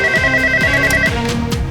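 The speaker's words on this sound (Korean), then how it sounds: "버튼을 눌러 경찰서로 전화를 거는데 성공했습니다." A telephone rings on a call placed to a police station, a loud electronic ringtone with steady repeating tones, alone and close by with no voices.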